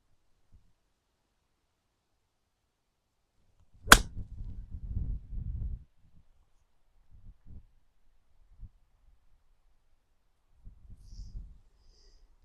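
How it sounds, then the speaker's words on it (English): A golf club strikes a ball in a punch shot from under trees, a single sharp crack in near silence, followed by brief rustling and scattered faint outdoor movement. "I'm going to try and deliver this punchy shot, keeping my hands ahead and allowing for a bit of draw"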